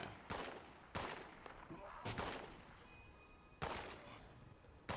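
Automated turret gunfire cuts down super mutants in Fallout 76, heard as sharp, loud shots spaced irregularly about a second apart over a low game-world rumble.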